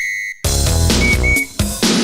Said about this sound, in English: Let's fire it up. Let's blow the whistle.